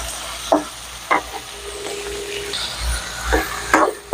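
Chopped onions sizzle in a hot pan for chicken thokku, a steady frying hiss broken by several scraping knocks of a spoon stirring against the metal, close by and with no voices.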